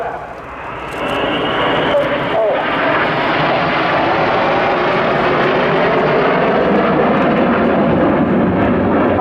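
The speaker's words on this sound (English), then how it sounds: "Aircraft flying now only to 120 miles an hour" Red Arrows jets flying in formation roar past at an air display, a loud, sustained, broadband engine rush that swells in the first seconds and then holds steady and close.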